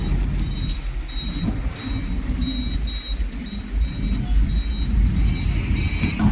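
A private car turning around at a ferry port on the Sunda Strait, a steady low engine rumble with faint intermittent reversing beeps and a continuous background hum.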